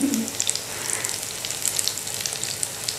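Aloo kababs frying in oil in a pan over medium flame, a steady close crackling sizzle with scattered sharp pops and spits throughout, no talk.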